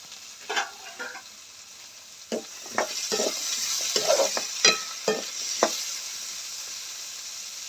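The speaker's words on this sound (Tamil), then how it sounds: "நான் வந்து வெங்காயமும் பூண்டும் போடுறேன்." Onion and garlic fry in oil in a pan for a curry, giving a soft background sizzle with about a dozen sharp scraping stirs scattered across it.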